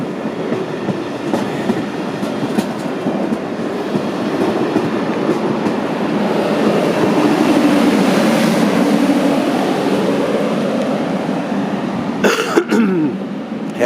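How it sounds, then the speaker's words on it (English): Train rolling through Malmö Central Station, a steady rumble with rail clatter that swells in the middle as it passes, with a few sharp clicks and a brief noise burst near the end. "chasing trains here in MALMÖ"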